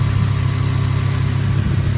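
A 2017 Audi R8 V10 Plus supercar engine runs at a steady idle, a loud, close, continuous low rumble with no talk over it.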